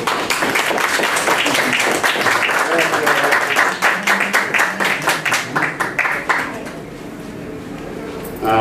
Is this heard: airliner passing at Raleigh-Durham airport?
no